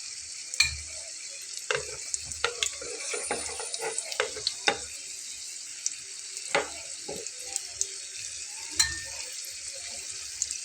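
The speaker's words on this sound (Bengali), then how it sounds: "তেলটাকে ঝরিয়ে ঝরিয়ে আমি তুলে নিচ্ছি।" Fried bread potato bites lifted from hot oil with a slotted spoon, soft sizzling running steadily under a series of light metallic taps and clicks as the pieces are drained and set aside.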